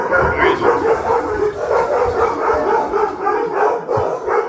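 Several dogs bark and yip in an excited, continuous chorus at moderate distance, overlapping one another with some howling and whining mixed in.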